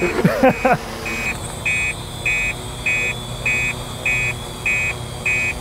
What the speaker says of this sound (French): Donc vous entendez alarme du PC, alarme du drone.